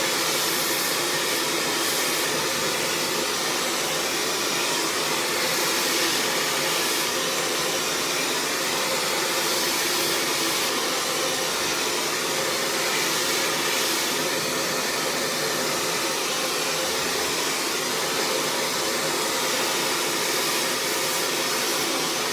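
A hair dryer blows steadily while someone blow-dries hair with a brush, a loud continuous whooshing roar with slight wavering airflow throughout, no talking.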